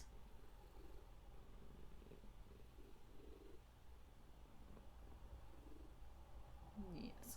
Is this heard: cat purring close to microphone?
yes